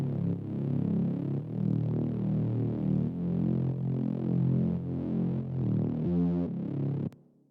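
A Reese bass synth pushed through a low-pass filter and distortion drones as a dense, throbbing low tone, holding steady with small dips for about seven seconds before cutting off abruptly.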